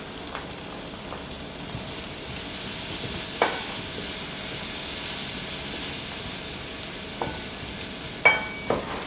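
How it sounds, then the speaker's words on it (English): Shrimp frying in a pan with butter and garlic, a steady soft sizzle with a few sharp clinks of a utensil against the pan, no talking. "We're gonna cook that up with the shrimp for a little flavor."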